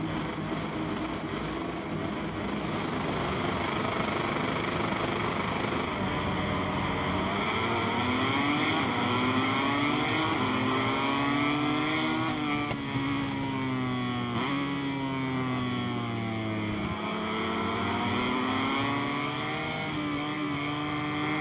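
Motorcycles sit idling and revving on the starting grid at Portimao in MotoGP 23, their engines holding a loud, continuous drone with pitch rising and falling in repeated swells.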